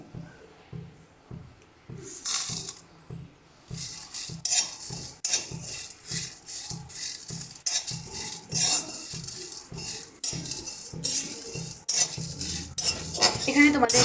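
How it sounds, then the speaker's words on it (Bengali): Cumin seeds and dried chillies dry-roasting in a hot wok, with repeated scraping and clinking of a metal spatula stirring against the pan in an uneven rhythm, close and moderately loud. "দেখো এদিকে একটা কড়াই গরম বসিয়ে দিয়েছি এবার এর মধ্যেই আমরা কাঁচা জিরে শুকনো লঙ্কাটা দিয়ে দিচ্ছি"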